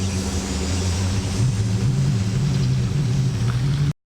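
A pickup truck carrying a truck camper rolls into a parking spot. A steady low engine rumble and drone holds close and fairly loud for a few seconds, then cuts off abruptly.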